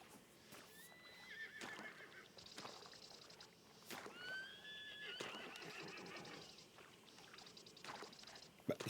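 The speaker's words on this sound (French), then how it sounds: "Où c'est qu'ils sont les chevaux?" Horses neigh and whinny repeatedly in a video game, several rising and falling calls scattered across the clip, with a steady background of hooves clip-clopping and some sloshing noise, moderately loud and fairly close.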